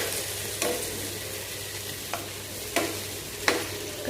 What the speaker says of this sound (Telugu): కాసేపు ఫ్రై చేయాలి ఆయిల్లో